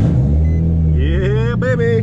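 A stalled car's engine cranks and then catches in the rain, its pitch rising as it revs up. Excited voices talk over the engine throughout.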